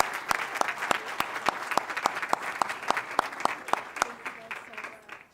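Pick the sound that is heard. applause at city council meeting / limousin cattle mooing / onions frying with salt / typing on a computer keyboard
applause at city council meeting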